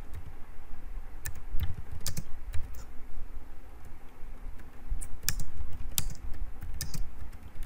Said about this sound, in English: And then I'm going to type in my question.